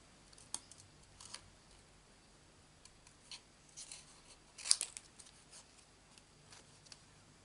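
Scissors cutting card stock in a zigzag for a stamped paper craft, a series of faint, quiet snips at uneven intervals, the clearest cut coming around the middle, with no talking.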